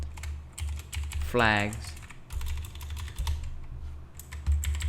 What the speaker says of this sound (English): Now you're gonna type Chrome